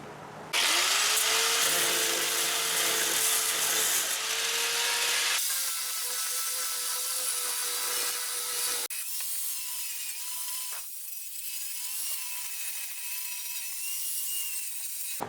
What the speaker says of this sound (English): Sanding disc works great.